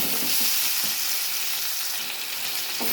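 Potatoes and onions sizzle in a frying pan as they are stirred, a continuous bright crackle with faint scraping movements underneath.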